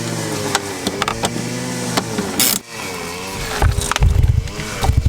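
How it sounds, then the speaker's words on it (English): A string trimmer runs nearby with a buzzing engine whine that shifts in pitch, mixed with clatter and knocks from work on a budget camper's leisure battery wiring. "Sorry about the noise, there's a guy doing a strimmer."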